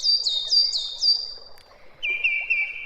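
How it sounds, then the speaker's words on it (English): Recorded birdsong played back for a group, with bright repeated chirps in quick bursts followed by a higher steady trilling run, loud and close with no talk over it. "That is some aggressive bird chirping, Moshe."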